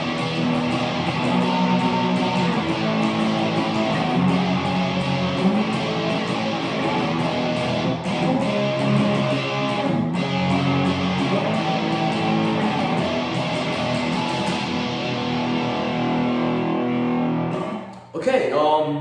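Distorted electric guitar plays the outro of a song in standard tuning, a dense, continuous strummed wall of chords that rings steadily for most of the passage before cutting off near the end with a brief final strum.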